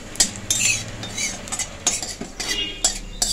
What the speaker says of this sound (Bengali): ভালো করে আমি ভেজে নিচ্ছি। এগুলো আমি একদম কালো করে নেব, এতটাই ভাজবো।